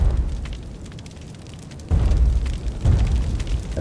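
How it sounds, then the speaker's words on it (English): Explosive barrels blow up in an in-development game written in Jai, a loud rumbling low boom that swells twice in close succession, with no talking. "explosive barrels leave lava on the ground when exploded."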